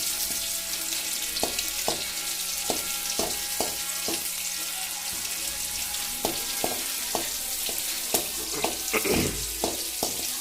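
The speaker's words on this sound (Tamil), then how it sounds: "வெங்காயம் நல்லா வதங்குற வரைக்கும்." Onions sauté in a pan with mint and coriander, a steady loud sizzle and fry filling the whole stretch, broken by regular light clicks and taps of stirring.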